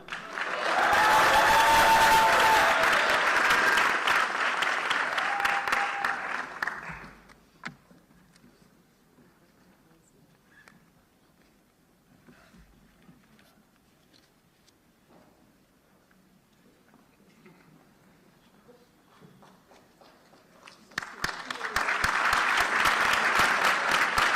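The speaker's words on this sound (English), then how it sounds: "Let's give them all a round of applause." Loud audience applause at a university Charter Day ceremony fills the first seven seconds, drops to a quiet pause, then resumes strongly near the end.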